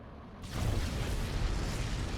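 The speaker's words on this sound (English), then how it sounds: "Huge nuke going down right there." A nuke detonates in StarCraft 2: after a brief quiet moment a heavy, rumbling blast erupts and sustains as a dense, roaring boom that fills the rest of the moment, with no talking.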